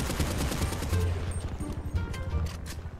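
Rapid bursts of gunfire crackle continuously, dense and loud, like automatic weapons firing in GTA RP zombie mode, FiveZ.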